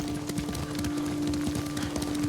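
Horses' hooves clop rhythmically in the video game Ghost of Tsushima, a steady galloping beat carried under a sustained musical drone, fairly close and moderately loud.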